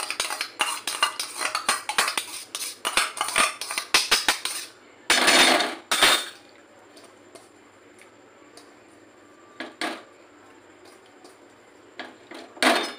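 A utensil clinks and scrapes against a bowl while a mango yogurt mixture is stirred into milk, with rapid clatters at first, then sparse knocks separated by quiet gaps.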